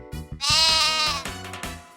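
Sheep bleating in a single drawn-out, wavering call, loud and close, in a children's song about animal sounds, with brief musical notes before and after it.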